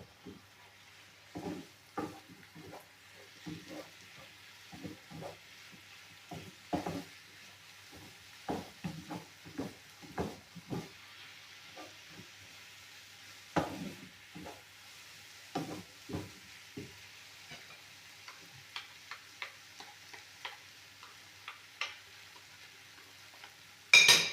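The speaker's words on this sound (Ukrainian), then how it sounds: "щоб вони протушились разом з мукою" Stirring and scraping in a pan of mushrooms stewing with flour over a soft steady simmer, with irregular utensil taps and scrapes throughout, fairly close.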